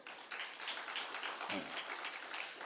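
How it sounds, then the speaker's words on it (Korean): Congregation applauding together in a church during an Easter Sunday service, a steady wash of clapping that stays fairly loud and even from the first moments to the end. "박수 한번 힘차게"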